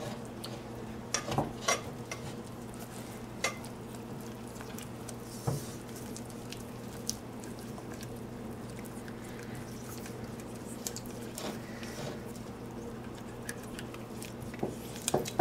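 A vegan salted caramel chocolate bark mixture is stirred with soft, irregular scraping and light clicks of a utensil against a bowl over a steady low hum, fairly quiet and without speech.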